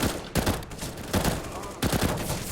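Rapid gunfire exchange in a CS:GO esports match on the Mirage map: several sharp, close bursts of rifle and pistol shots in quick succession, with no voices.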